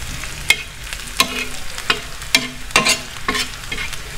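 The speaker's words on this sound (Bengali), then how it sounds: "এবার আমি একটু পেঁয়াজ আর লঙ্কাটা ভেজে নেব।" Onion and green chilli frying in oil on a tawa, lightly salted, a close, loud sizzle broken by rhythmic scraping strokes from a spatula about every half second, no voices.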